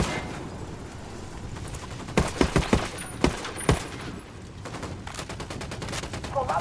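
Rapid gunfire in the video game Ghost Recon Wildlands: a burst of sharp shots crackles loudly over a steady rumbling background, then further scattered shots and a quick run of rattling fire toward the end.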